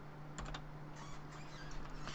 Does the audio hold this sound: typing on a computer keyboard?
yes